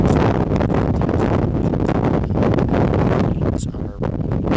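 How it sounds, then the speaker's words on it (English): Gusty wind buffets a microphone outdoors at a lawn bowling club in Calgary, Alberta. The rumble is loud and continuous, surges and eases in gusts, and nearly buries any other sound. "It's gusting today, which is making it very, very challenging for the players."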